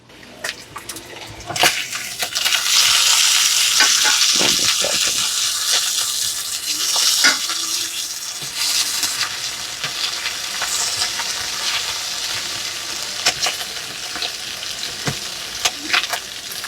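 Bacon fries in a skillet with a steady, loud sizzle and spatter, broken by occasional clinks and scrapes as the pieces are stirred.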